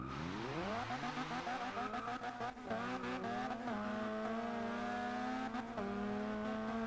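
A Mazda MX-5 engine in Forza Horizon 2, tuned to a 500+ hp Super20 build, revs hard toward redline, its harmonic whine climbing through several gear shifts with tire squeal, loud and close throughout.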